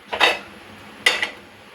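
A pressure cooker pot is set onto a lit stove, two short metallic clanks close by with a quiet pause between them.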